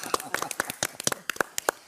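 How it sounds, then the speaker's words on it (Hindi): In a Bigg Boss house roasting session, a small group claps briefly in scattered, uneven bursts, fairly close, with a voice speaking over the claps. "तालियां"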